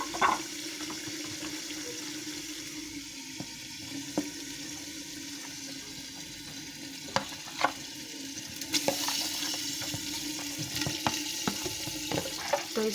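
Marinated mutton tipped into a hot pot for an arvi gosht curry fries with a steady sizzle, and stirring scrapes and knocks stand out above it now and then.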